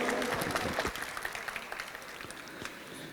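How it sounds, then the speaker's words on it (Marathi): Applause from the audience at a Rotary Club event after an inspirational speech, a dense crowd clapping that starts strong and slowly thins out, with faint voices underneath. "त्यांच्या वतीने जोरदार टाळ्या या ठिकाणी झाल्या पाहिजे"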